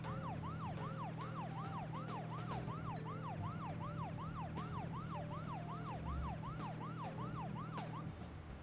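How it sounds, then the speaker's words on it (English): A police car siren in the video game Deadly Premonition wails in a fast, regular up-and-down cycle, loud and continuous over a low engine hum, cutting off near the end. "I gotta turn on the siren so I can go faster"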